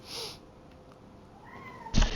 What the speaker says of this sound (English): You'll hear a cat every now and again